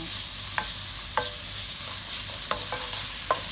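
Pork stir-fries with kimchi in a pan, a constant soft sizzle punctuated by several sharp spatula clicks and scrapes at irregular intervals.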